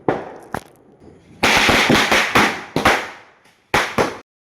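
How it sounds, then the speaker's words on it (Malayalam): A 50-piece string of firecrackers set off for the Vishu festival, bursting in rapid crackling volleys with short gaps between, loud and close. "ബാക്കിയുള്ളത് ഒരു 50ൻ്റെ മാലപ്പടക്കും ഒരു പൂക്കുറ്റിയാണ്. നമുക്കത് പെട്ടെന്ന് തന്നെ പൊട്ടിക്കാം."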